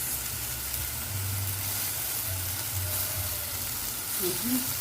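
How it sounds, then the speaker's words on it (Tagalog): Fish sauce (patis) sautéing in a hot pan for native-chicken tinola gives a steady, close frying sizzle with a low background hum throughout. "Sabay natin igisa ang ating patis."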